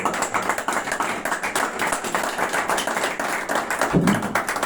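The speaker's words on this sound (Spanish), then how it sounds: "Yo le daría un aplauso" At a book presentation, the audience breaks into steady applause for the author, a dense, continuous run of clapping from many people in a hall, holding level throughout.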